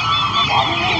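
Dense, overlapping squawks and clucks of many chickens at a market in Pallavaram, Chennai, loud and close, forming a continuous noisy chorus with no talking.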